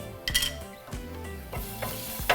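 Minced garlic hitting hot oil in a pan for a teriyaki beef stir fry, giving a close sizzle with a few metallic utensil clinks and stirring scrapes scattered through a couple of seconds.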